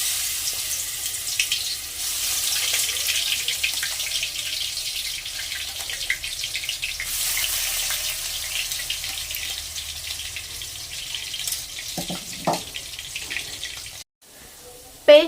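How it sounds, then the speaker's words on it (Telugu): A ground spice paste frying in hot oil for egg rice, a loud continuous hissing sizzle that fades over time, ending with a few clinks and scrapes of a utensil. "ఆయిల్ అనేది హీట్ అయిన తర్వాత మనం ముందుగా చేసుకున్న పేస్ట్ని అందులో వేసేద్దాం"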